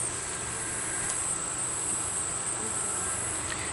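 Honey bees hum steadily around an opened hive during a late-summer inspection on a hot day, a dense continuous buzz with a faint high whine, no talking.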